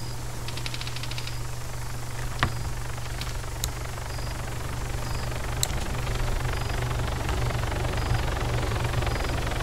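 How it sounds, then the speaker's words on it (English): A helicopter in the military game Arma 3 drones with a steady rotor and engine hum, holding constant at moderate loudness, with a few faint clicks and tones over it. "Is that a hostile helicopter?"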